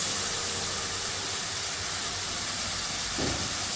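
Fish frying in spice paste gives a constant dense sizzling hiss, close and even throughout, with a brief low thump near the end.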